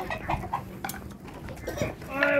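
Chickens clucking close by on a home poultry setup while being given water, with short irregular clucks and calls mixed with movement and background voices.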